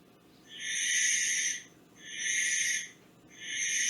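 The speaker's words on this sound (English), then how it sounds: "Here's another owl. Who's making that sound?" Owl hooting in three long, strained calls, each about a second, with short gaps between them; loud and close, with no voices and only a faint background hiss.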